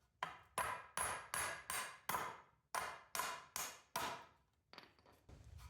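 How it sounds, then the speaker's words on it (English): A hammer striking a wooden trim piece to drive nails out, about a dozen sharp, evenly spaced blows with ringing decay, each hit clear and close, with no talk. "So just going to use the hammer."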